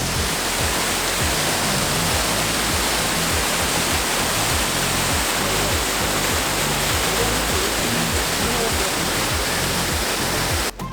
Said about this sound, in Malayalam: അവിടെ ചെറിയൊരു വെള്ളച്ചാട്ടം കണ്ടു